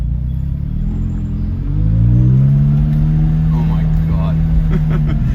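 A McLaren car launches and accelerates hard, its engine surging into a loud, rising, sustained drone up close, with brief voices near the end.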